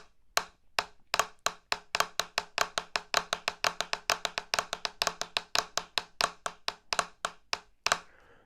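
Swiss triplet rudiment played wrist-stroke on a practice pad with traditional grip, a steady string of sharp taps that starts slow and spaced and gradually speeds up into tight, rapid bursts, close and alone.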